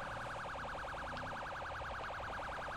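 A wailing police car siren in GTA V cycles rapidly up and down in pitch, steady and fairly faint, with no voices over it.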